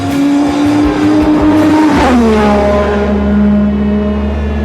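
A McLaren Senna roars loud and near under hard driving, its engine note climbing, then dropping sharply as the revs fall and settling into a lower steady drone, with no voices.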